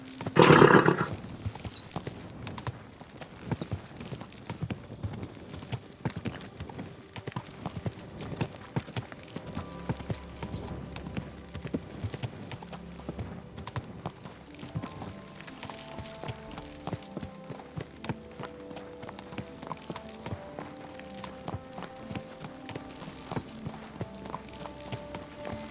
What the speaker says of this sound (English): Your horse nearly trampled me.